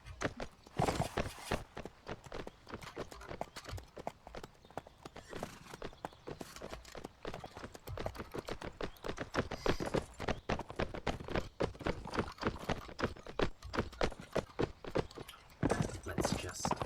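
Horse hooves clip-clop in a video game while the horse moves along at a steady pace. The hoofbeats are dense, continuous and fairly close, with no speech.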